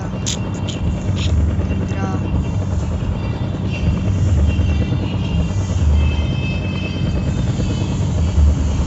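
Continuous low thumping drone of a helicopter in the video game Indian Bike Driving 3D, loud and steady throughout, with brief chirps and faint voices in the background.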